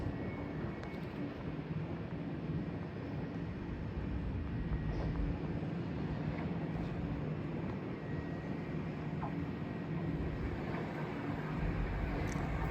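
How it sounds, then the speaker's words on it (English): A four-carriage Southern Class 377 electric train arriving at Clapham Junction produces a steady, broad rumble with a low hum. The sound holds at an even, moderate level throughout, with no voices. "As coming down now is the 1545 Southern service from London Victoria to Littlehampton"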